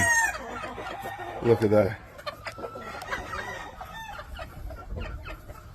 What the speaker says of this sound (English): And they're just good old chickens.